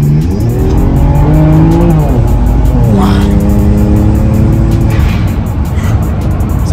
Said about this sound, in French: on va faire une petite accélération